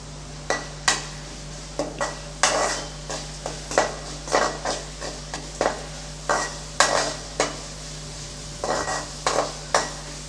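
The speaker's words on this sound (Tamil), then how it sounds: "நான் அதை நல்லா வதக்கி விட்டுறலாம். வெங்காயம் கொஞ்சம் நல்லா வதங்குற அளவுக்கு." Onions sautéing in a pan for a brinjal gravy, with a spoon scraping and knocking against the pan in regular strokes over a soft continuous sizzle and a low steady hum, close up.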